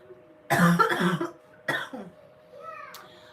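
Two bursts of coughing, the first a harsh cluster of several coughs, then a shorter one, close and loud, trailing into a softer throat sound.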